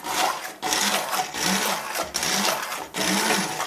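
A blender whirs in four short bursts separated by brief pauses, loud and close, grinding a thick fruity pepper sauce.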